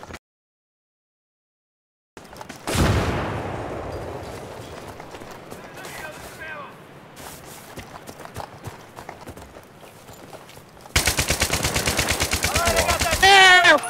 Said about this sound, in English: I can hear him shooting, but I can't get him.